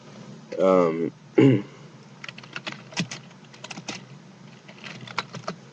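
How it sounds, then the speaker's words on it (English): Keyboard typing clicks in irregular bursts after a brief moment of speech near the start, close and moderately loud. "I'm on my Facebook typing"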